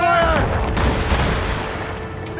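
Ship cannons fire in a naval battle in Assassin's Creed Rogue, a loud close boom that rolls into a rumbling fusillade and fades over a couple of seconds.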